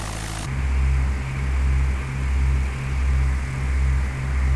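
A Cessna C172SP Skyhawk single-engine propeller plane in the FS2004 flight simulator drones steadily, a low engine hum that slowly pulses in loudness, constant throughout and alone.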